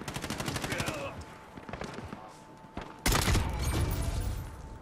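Rapid automatic gunfire in a Call of Duty game, a fast rattling burst at the start, then scattered shots and a loud, sustained volley near the end, with a player talking at times.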